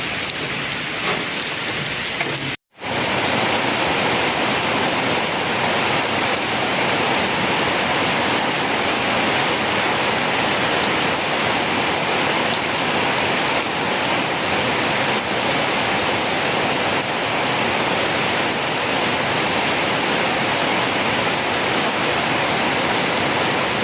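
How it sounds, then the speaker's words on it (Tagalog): Heavy rain pours in a dense, continuous roar, loud and close, broken only by a brief silent gap early on. "So, malakas na po ang ulan dito."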